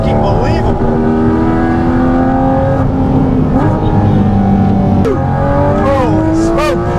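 Porsche GT4 RS engine roaring through its airbox intake while accelerating, rising pitched engine tones sweeping up through gear changes, loud and close inside the cabin, with someone talking over it.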